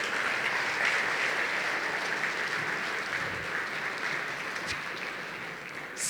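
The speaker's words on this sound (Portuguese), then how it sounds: "Vamos dar um salve de palmas para os irmãos que levantaram a mão." Congregation applause during a church service, a continuous dense crowd clapping that stays loud and even for several seconds, with no speech over it.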